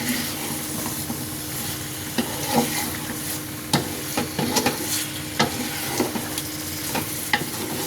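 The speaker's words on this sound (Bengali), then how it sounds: "সজনে ডাঁটাগুলো আমরা ভালো করে কষিয়ে নেব" Drumstick (moringa) pieces sauté in oil in a pan for masoor dal, giving a continuous crackling sizzle with irregular knocks and scrapes from a stirring spatula, close and fairly loud.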